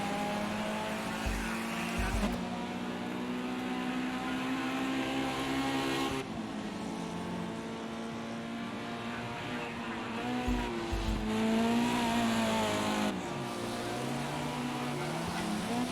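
Race cars from a PC sim racing eSports qualifying session, engines droning and revving up and down with whining pitch sweeps and brief low thumps, steady and fairly loud throughout.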